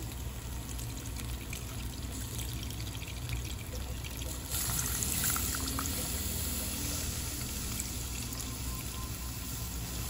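Alpine milk poured into a mushroom cream pasta sauce in a pan, a steady soft trickling pour that lasts the whole stretch without talk and swells a little midway.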